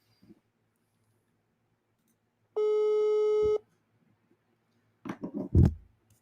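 A single tone burst of a telephone busy signal sounds for about a second, loud and alone, followed by brief soft handling noises.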